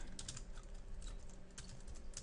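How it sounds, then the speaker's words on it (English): Someone types a password on a computer keyboard in a short, quick run of light, close key clicks with no voices. "So let's type that."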